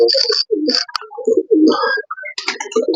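Racing pigeons at a club loft in Gopalganj coo and call close by in quick overlapping bursts, several soft throaty coos and brief chirps following one another with no talking.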